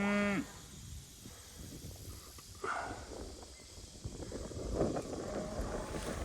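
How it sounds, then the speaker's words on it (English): Cattle in a cow/calf mob grazing sericea lespedeza moo outdoors, with a short low call at the start and more calls through the stretch over light wind noise. "Cows are complaining."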